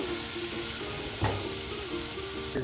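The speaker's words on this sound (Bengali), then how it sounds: "তেলের সাথে ভালো করে এই যে লাউ কুচিগুলো একদম উলট পালট করে দেওয়া হচ্ছে" Chopped bottle gourd stir-fried in oil for a rural Bengali iftar, a steady bright sizzle filling the clip with occasional scraping clinks of a spatula turning the pieces.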